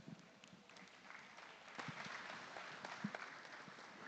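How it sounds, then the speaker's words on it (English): A crowd applauds exhibitors at a youth dairy cattle show at the Nebraska State Fair, scattered claps forming a steady, fairly faint wash of applause in a large open venue for several seconds. "Why don't we give them a round of applause?"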